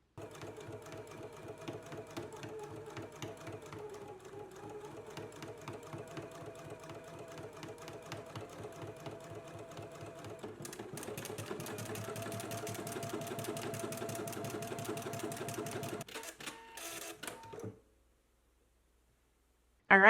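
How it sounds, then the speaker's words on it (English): A sewing machine runs steadily for about seventeen seconds, close and even-paced, doing top stitching a quarter inch from the edge on a garment and then sewing a buttonhole. It stops abruptly, leaving near-silence. "Let's go ahead and do our top stitching."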